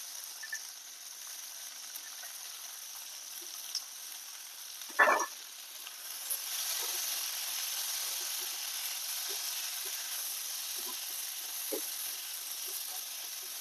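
Cluster beans (guar) frying in hot oil with reddened garlic in a village-style kitchen, a soft continuous sizzle and hiss after a brief clatter as the beans go in, no voices.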